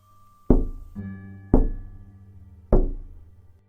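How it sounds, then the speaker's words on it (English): Loud knocking sound effect for a creepy story reading: three heavy, resonant knocks spaced about a second apart, each ringing out briefly, with a softer thud between the first two. "Another set of knocks, so loud it made me jump."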